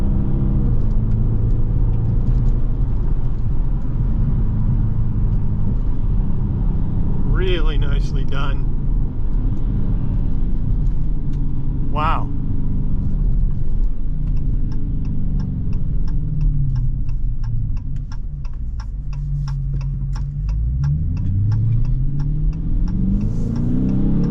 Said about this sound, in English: Is that sound out of that V8 awesome? I love V8 sound